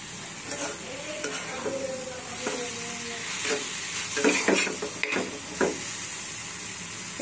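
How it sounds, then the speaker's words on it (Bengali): Hechi saag greens frying in a pan, a steady soft sizzle with scattered scraping stirs and clinks throughout, no talking. "শাকটা এখন ভাজি করতেছি, শাক ভাজি করে ভাত খাবো"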